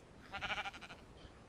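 A sheared sheep in the Minecraft video game gives one short, quiet, wavering bleat with nothing else around it.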